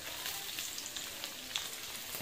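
Onions with dried red chillies and green chillies sautéing in a pan for tomato thokku, a steady close sizzle and crackle throughout with small pops, no voices.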